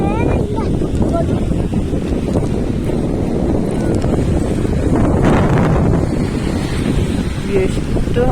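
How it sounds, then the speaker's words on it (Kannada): Waves on the KRS dam reservoir churn and slap close by under strong wind buffeting the microphone, a rough continuous wash that surges near the middle. "ಎಷ್ಟು ಅಲೆ ಬರ್ತಿದೆ, ಒಳ್ಳೆ ಬೀಚಿಗೆ ಬಂದಂಗೆ ಐತೆ."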